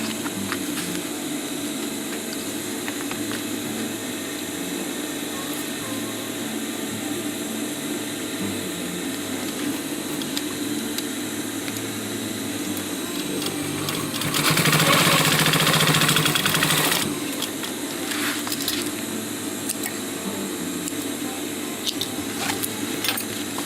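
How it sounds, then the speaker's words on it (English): Sewing machine stitching fanny pack fabric, a steady, continuous mechanical whir running throughout at moderate level, with one louder, brighter burst of a few seconds midway. "Give it a stitch to hold it in place."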